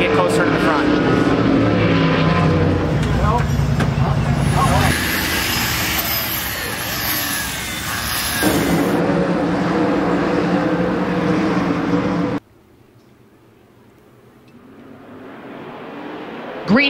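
Dirt track race cars roaring off at the start of a heat race, loud engines revving and droning close by before cutting away to a quieter, distant engine sound.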